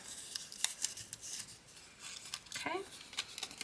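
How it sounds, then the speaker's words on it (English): Scissors snip through a paper template for a teacup bookmark, a series of quiet, close cuts with crisp paper rustling between them. "we're going to cut it out properly."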